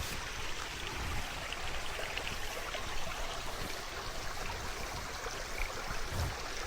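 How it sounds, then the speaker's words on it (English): Water rushing along a stream near a waterfall in Placerita Canyon on a rainy day, a steady broadband wash of flowing water that stays even and fairly close throughout, with no voices. "I like the sounds of the water,"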